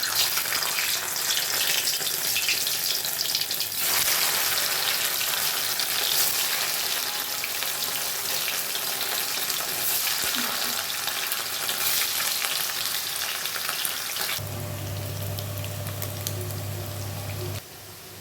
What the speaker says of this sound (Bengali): তেল গরম হয়ে গেছে, এখন পনিরটাকে ছেড়ে দেবো।